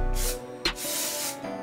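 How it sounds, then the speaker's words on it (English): Protector spray hisses in light bursts onto an Air Jordan Retro 3 Palomino sneaker, two or three short, close, airy sprays in quick succession with no talking. "So I'm aiming, spraying lightly on the sneaker."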